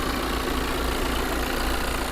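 An Audi A4 40 TDI facelift diesel engine idles steadily with an even, rumbling clatter, close by and continuous with no other sounds.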